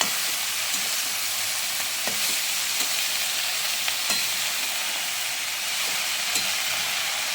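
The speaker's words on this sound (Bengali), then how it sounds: "এই শাকটা এভাবে ভাজবে, ভাজাটা করি দেখুন।" Continuous sizzling and hissing of spinach frying in a pan, with occasional faint clicks of stirring, steady and close.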